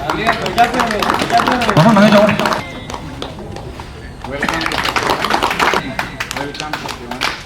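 Festival crowd at the Wancho tribe's Sahchawan celebration in Longding clapping for guests, rapid scattered claps mixed with someone talking over a loudspeaker, briefly quieter midway before the clapping picks up again.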